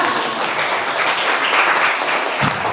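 A classroom of students applauds steadily, dense clapping filling the whole stretch at a fairly loud level, with no pauses.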